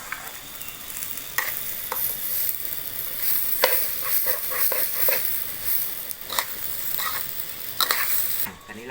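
Rice sizzles and scrapes in a hot pan as it is stir-fried for chicken rice, with repeated utensil clinks and a steady crackling fry throughout.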